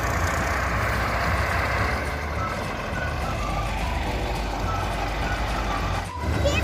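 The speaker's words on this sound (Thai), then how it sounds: "รถเกี่ยวสตาร์ทเครื่องเตรียมแล้ว" A rice combine harvester engine runs steadily in a field, a loud continuous diesel drone with mechanical clatter throughout, close by and unbroken.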